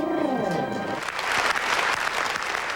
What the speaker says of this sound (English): in spite of the applause which greeted him